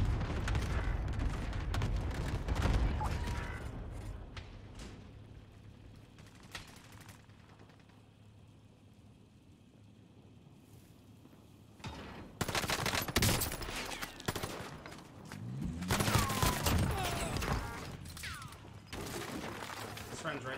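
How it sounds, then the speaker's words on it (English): Gunfire in the Gulag of Call of Duty Warzone, a video game: bursts of automatic rifle fire and sharp shots in clusters, loud and near, with a quieter lull in the middle and game sounds around them. "They're just shooting through the wall."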